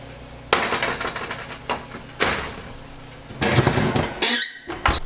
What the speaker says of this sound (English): we're going to go ahead and take these potatoes out of the oven